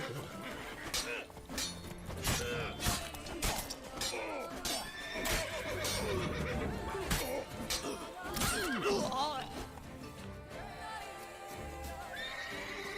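A horse in The Witcher 3 neighs and whinnies several times over busy game sound effects and clattering, loud and close throughout.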